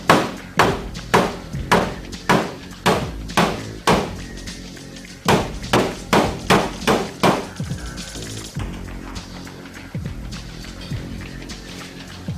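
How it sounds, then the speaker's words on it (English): A hammer strikes a dented car body panel in a series of sharp metallic taps, about ten quick blows, a short pause, then another run, ending in lighter scattered hits. "hammer it in just a little bit"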